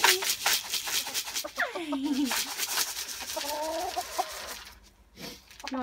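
Hens clucking and murmuring inside a snowy coop after a blizzard, with rising and falling cackles and soft bird calls close by over a constant rustle and background noise.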